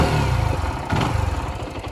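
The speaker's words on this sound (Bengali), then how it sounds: "বাইক স্টার্ট হয়ে যাবে" A Zontes ZT155-U motorcycle engine catches and settles into a steady, loud, close idle with a rhythmic mechanical pulse.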